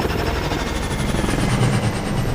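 A helicopter in the video game Call of Duty Advanced Warfare, a steady, loud rotor-and-engine drone that holds throughout with no letup.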